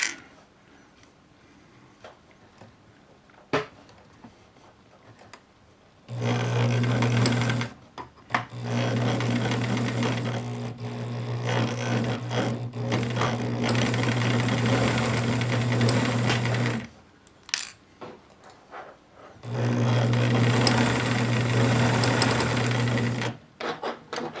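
A Bernina Record 830 sewing machine stitches a zippered pouch, running in three loud, steady humming bursts of rapid needle chatter separated by quiet pauses with small handling clicks.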